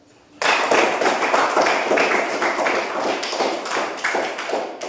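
A classroom of students claps together in a burst of applause that starts abruptly and continues as a dense, steady patter of hand claps for several seconds.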